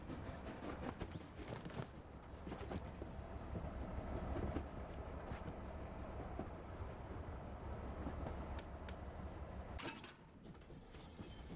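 A train in the video game Voidtrain, a steady clattering rumble with repeated rhythmic clicks and knocks, fairly quiet and continuous, dipping briefly near the end.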